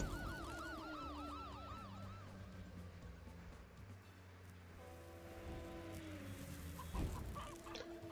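Repeated rising-falling electronic squawks of chickens running out in the video game Stumble Guys, looping over a steady tonal background with a sharp hit near the end.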